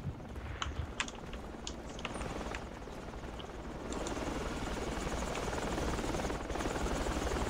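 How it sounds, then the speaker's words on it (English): An enemy helicopter flies overhead in the Project Reality video game, a steady dense rotor roar that grows slightly louder midway, with faint clicks and keyboard taps over it. "Enemy chopper above."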